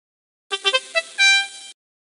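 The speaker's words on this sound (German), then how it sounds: "So klingt die Querflöte." A transverse flute from the PC game Die CD Rom mit der Maus 2 plays a quick run of short notes ending on one held tone, alone and clear.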